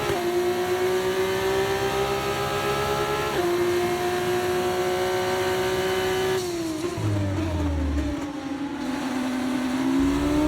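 A Formula 1 car's high-pitched engine whine in the F1 24 racing game during an overtake, a loud sustained tone that shifts pitch with gear changes and drops briefly as the car passes, then climbs again.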